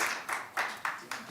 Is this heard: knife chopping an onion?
no